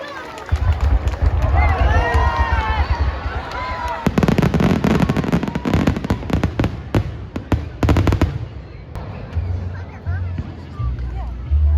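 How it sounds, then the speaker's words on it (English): Fourth of July fireworks show at Idlewild park: a dense burst of crackling and popping explosions, loud and close, over a murmuring outdoor crowd with people talking and calling out nearby. "The fireworks are so beautiful, and the whole show lasted about 15 minutes."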